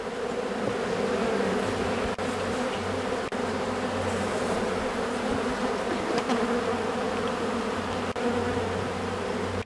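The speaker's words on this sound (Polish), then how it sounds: "masę młodej, pięknej pszczoły" A dense, steady hum of many honeybees buzzing together at the hive, close and continuous, with occasional faint clicks and no voices.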